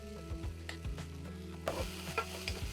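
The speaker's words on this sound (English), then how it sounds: "And then also the onion. Listen to that sizzle." Chopped onion frying in a pan while making stuffed cabbage rolls, with a steady close sizzle and a few stirring scrapes and clatters across the clip.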